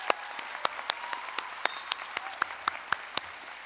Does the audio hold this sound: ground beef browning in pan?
no